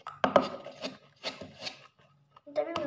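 Homemade slime is squished and stirred by hand, giving short wet rubbing and squelching bursts in uneven pulses, quiet and close.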